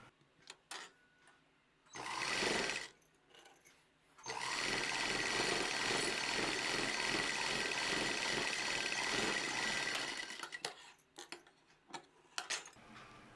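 A sewing machine stitches a double-folded strip on a frill frock, with a short burst of running followed by a longer, steady stretch of fast, even whirring, and scattered handling clicks before and after.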